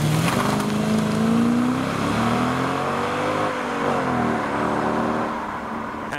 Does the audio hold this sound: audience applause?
no